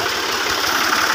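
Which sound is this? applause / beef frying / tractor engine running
tractor engine running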